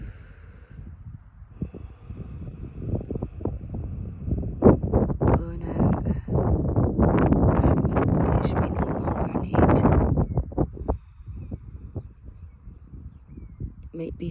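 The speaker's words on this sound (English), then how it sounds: "Might be too windy here for" Wind blows outdoors in strong gusts that buffet the microphone, rising and falling as a rough rushing roar under a person's soft speech.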